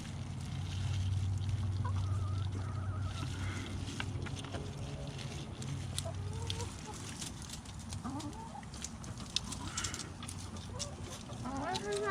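Chickens cluck and squawk nearby amid farmyard background noise, with scattered rustling and occasional faint voices.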